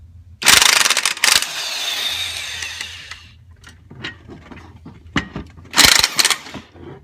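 Impact wrench removing a strut bolt nut on a Ford Mustang front suspension, with a loud rattling burst near the start, a longer whirring run, then softer clanks and a second short hammering burst near the end.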